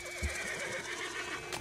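A horse neighs in Red Dead Redemption 2, a short whinny over a steady hum of game ambience, followed by a brief bright burst near the end.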